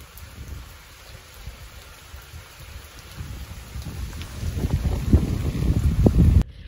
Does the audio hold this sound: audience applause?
no